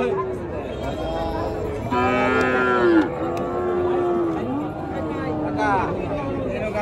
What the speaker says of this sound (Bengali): এদিক দিয়ে সব হলো বিদেশি গরু, ফিজিয়ান, অস্ট্রেলিয়ান, জার্সি জাতের গরু